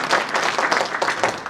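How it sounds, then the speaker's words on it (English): Conference attendees at a technology and innovation event clap after a presentation, a lively, fairly close burst of hand claps with a loose rhythm. "Let's give a better clap for us."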